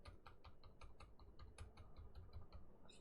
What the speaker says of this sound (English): I'm pressing the button.